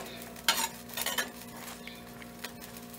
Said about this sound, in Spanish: lo vamos a dejar que se fría tantito el frijolito